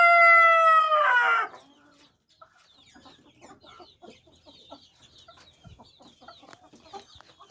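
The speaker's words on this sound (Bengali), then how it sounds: "আমার এখানে এক জোড়া কোচিন মুরগি এনেছি" A pair of Cochin chickens, a fluffy feathered breed kept on a farm, give a loud, close crow for about a second, followed by soft scattered clucks and scratching.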